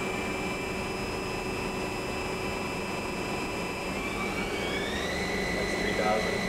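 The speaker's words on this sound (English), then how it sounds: "we're gonna run some spindle." A Fryer vertical machining center spindle runs at 1500 RPM, giving off a steady high-pitched whine that shifts upward in pitch near the end over a background hum, with talk audible.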